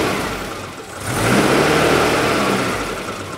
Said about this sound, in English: So we give her a bit of throttle.